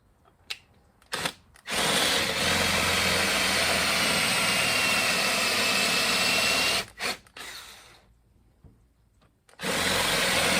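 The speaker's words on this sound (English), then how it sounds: "We're going to drill those out a little bit." A power drill whirs loudly for several seconds, stops briefly, then starts again; a sustained, close, grinding mechanical whine as it drills out set screws in the steering shaft of a 1956 Chevy truck.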